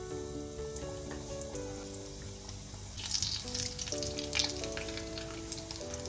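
Chicken lollipop wings frying in hot oil, a steady close sizzle that swells into brighter crackling bubbles midway, under soft background music with no talk.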